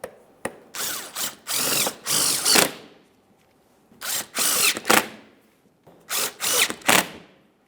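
A power tool drives mounting bolts into a shield on a 2008-2017 Mitsubishi Lancer 2.4L, heard as three loud, close bursts of whirring and ratcheting separated by short quiet gaps.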